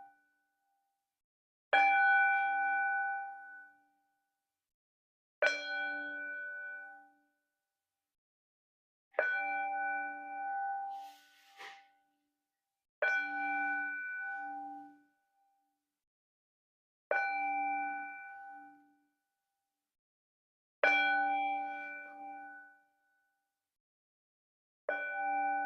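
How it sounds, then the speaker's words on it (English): A mindfulness bell struck seven times at slow, even intervals of about three and a half seconds, each clear metallic ding ringing out and fading alone in a quiet room. "train your ears to listen to the bell"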